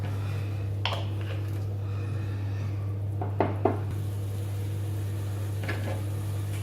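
Minced meat being stirred in a pan, seasoned with piment d'Espelette: a few soft utensil scrapes and light knocks against the pan over a steady low hum, with no talking.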